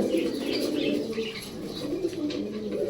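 A pair of Musaldom pigeons, a black hen and a red cock sitting on eggs, give soft throaty coos that rise and fall, close and steady, with faint chirps mixed in.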